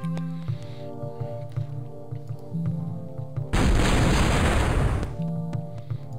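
A heavy cannon blast in a game, a loud booming roar lasting over a second, over constant tonal game music and effects.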